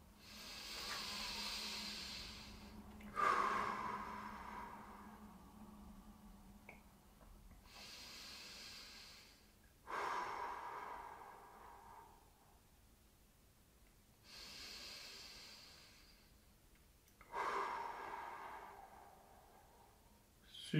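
Slow, deep breaths taken while holding a seated neck stretch, three long airy exhales spaced several seconds apart, soft and close, with no talking.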